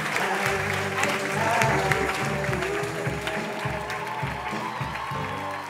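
A comedy club crowd greets a stand-up comedian with sustained, full applause and a few cheers, dense and steady throughout, while music plays underneath.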